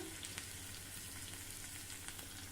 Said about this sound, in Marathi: इथे तडका पॅनमध्ये एक टेबलस्पून तेल मी गरम करायला ठेवलं आता यामध्ये एक स्पून ठेचलेला लसूण घालूया